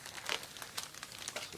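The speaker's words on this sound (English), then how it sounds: "So it's a plastic bag." A plastic bag wrapped around a set of five assorted machetes crinkles and rustles as it is handled and unwrapped, close up in a series of quick crackling bursts.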